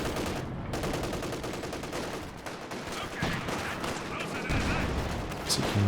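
Company of Heroes 2 battle with .50 cal machine gun fire, a dense continuous rattle of gunfire and scattered shots layered over the game's battle noise, with a voice talking over it.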